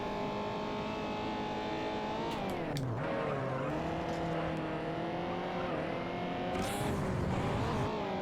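A car engine in the Juiced racing video game revving high near its rev limiter, a continuous loud whining drone that dips and climbs through shifts, with brief tire squeals.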